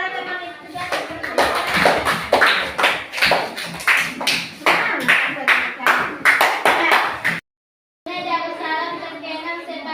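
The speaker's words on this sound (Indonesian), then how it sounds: "kita pilih tepuk tangan yang semangat" A group claps enthusiastically in a lively, rhythmic pattern of bursts, crisp and close, with children's voices chattering alongside; a brief silent gap, then voices carry on.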